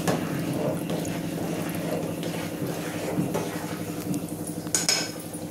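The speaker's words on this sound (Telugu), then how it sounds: "చూడండి ట్యాంక్లోకి నీళ్ళు వస్తున్నాయి." Purified water flows into a 10 litre storage tank, making a steady close trickle and splash with faint metallic clinks and a brief louder knock near the end.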